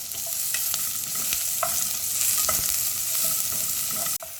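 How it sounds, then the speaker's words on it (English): Chopped onions frying toward golden for a mushroom curry, with a constant bright sizzle broken by frequent spatula clacks and scrapes against the pan. The sound cuts off abruptly near the end. "now we'll add the chopped onions. This onions till the onion gets a slightly golden color."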